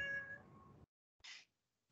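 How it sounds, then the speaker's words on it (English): A hungry cat meowing insistently for dinner, one loud drawn-out meow up close followed by a short, sharper second call after a brief silence. "just got yelled at by a cat"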